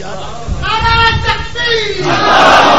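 A large crowd shouts a slogan loudly in unison, a brief roaring chant that swells and stays strong to the end, heard at a religious gathering.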